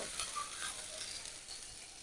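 Masala spice paste for green banana kofta curry fries in a pan with a splash of water, giving a soft, steady sizzle that holds evenly throughout the short moment.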